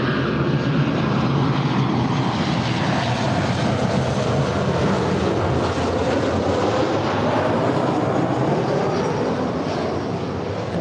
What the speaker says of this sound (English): And this is Delta 1659 coming in from Las Vegas on a 4-year-old 737-900ER